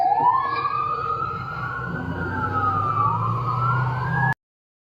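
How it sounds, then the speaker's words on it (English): A fire truck siren wails loudly and steadily, its pitch sweeping and rising across the clip over a low rumbling engine, then cutting off abruptly near the end. "Oh, fire truck."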